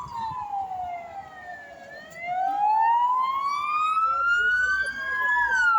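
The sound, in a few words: sirens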